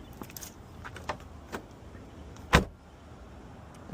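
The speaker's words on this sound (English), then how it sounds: "Okay, the door did close." A used car at a dealer auction has a door that is shut with one sharp, solid thud. Small clicks and faint handling noises come before it in a quiet setting.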